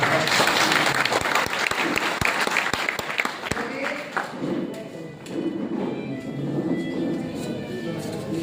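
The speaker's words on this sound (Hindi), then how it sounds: "थोड़ा सा तालियां हो जाए।" A seated audience at an MLM company business plan presentation gives a burst of distinct claps, loud at first, then fading into murmuring voices and room noise.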